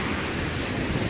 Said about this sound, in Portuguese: onde o mar está batendo mesmo derrubando mesmo.